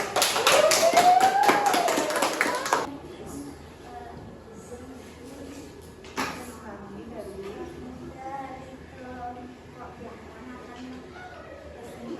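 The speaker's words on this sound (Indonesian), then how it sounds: "tepuk tangan untuk kelompok kupu-kupu." Children in a primary school classroom clap together for a student group, a loud burst of dense applause lasting a few seconds before it stops abruptly, followed by quieter room sounds and a brief sharp knock.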